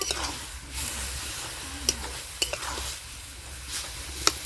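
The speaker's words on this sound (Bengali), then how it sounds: "লাউ দিয়ে ঘিয়ের সঙ্গে খুব ভালো করে ভেজে নিতে হবে" Bottle gourd frying in ghee in a pan, a soft hissing sizzle with a few sharp clinks of a utensil stirring against the pan, quiet and close.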